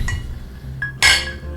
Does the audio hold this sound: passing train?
no